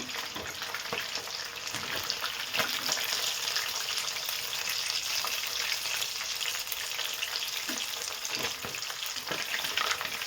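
Mangalore-style masala-coated fish frying in a pan, a continuous crackling sizzle with scattered pops and occasional stirring scrapes, close and fairly soft, with no talk over it.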